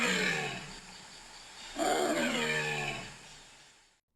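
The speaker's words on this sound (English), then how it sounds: "The roars of an angry tiger coming from the same direction." An angry tiger roars in a forest setting, two deep, rasping bursts, the second louder and longer, rising then fading out, with no talk.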